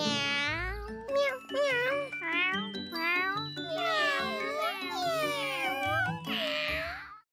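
A voice imitates a cat, giving a string of drawn-out, rising and falling meows with brief pauses between them.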